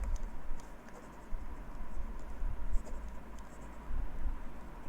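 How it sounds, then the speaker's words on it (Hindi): Marker or chalk writing on a board during a chemistry class, faint scratchy strokes coming in short bursts with pauses, heard alone with no talking. "मैं यहाँ लिख लेता हूँ"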